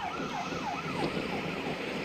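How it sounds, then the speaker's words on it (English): An emergency vehicle siren wails in a steady up-and-down sweep, the rising and falling tone repeating about every half second over constant traffic rumble at a convoy passing a roadside crowd, with no talk. "Oh, I wish he'd turn that siren off."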